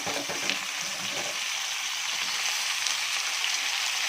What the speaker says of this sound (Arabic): ودلوقتي انا بشوح في البصل اهو مع الفلفلتين